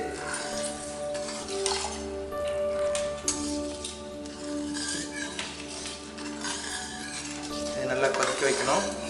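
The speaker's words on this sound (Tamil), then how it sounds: "இது நல்லா கொதிக்க வைக்கணும்." Homemade cough syrup with added sugar bubbles in a pot on the stove, a continuous soft simmer with occasional stirring and clinks of utensils at close range, fairly quiet with no talk.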